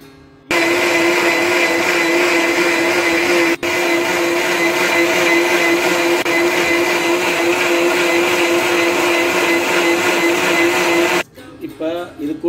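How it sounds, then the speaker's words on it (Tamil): A mixer grinder blends mixed fruits for juice with no water added, running as one loud, steady whir for about eleven seconds before cutting off abruptly. "இதை நல்லா மிக்ஸியில் நல்லா அரைச்சிக்கலாம்."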